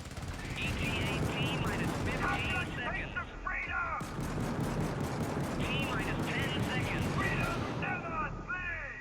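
Rapid bursts of automated turret gunfire in the co-op shooter game Helldivers, loud and sustained over a dense battle din with repeated volleys through the whole stretch.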